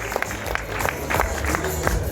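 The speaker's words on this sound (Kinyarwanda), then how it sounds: "Amashyi menshi cyane." Applause at a wedding, a steady wash of many hands clapping from a crowd, dense and continuous with a few sharper claps standing out, fairly loud throughout.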